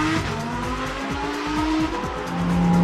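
A 2018 Lamborghini Huracan Performante with a 7-speed dual-clutch transmission driven hard, its engine loud and close as the revs climb in quick repeated surges through rapid gear changes, with no talk over it.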